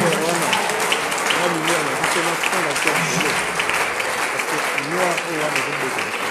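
A church congregation at a seminar applauds in a steady, dense wash of clapping that fills the whole moment, with voices and singing-like tones rising underneath.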